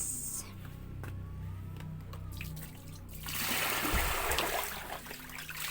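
Water running from a tap or hose to refill a bath for two Belgian Malinois dogs, a steady rushing stream that grows louder and fuller about halfway through.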